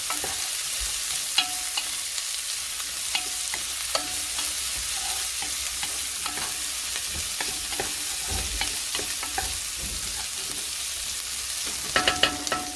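Garlic, onion and ginger sautéed in a pan for ginataang dahon ng gabi, a constant close sizzle broken by repeated light scrapes and taps of a spatula throughout.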